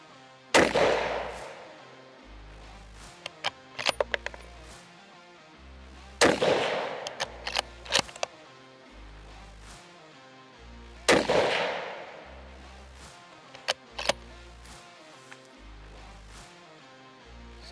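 Three loud shots from a Christensen Arms MHR rifle in 6.5 PRC firing Norma Golden Match 143-grain ammunition, spaced about five seconds apart, each with a sharp crack and a rolling echoing tail.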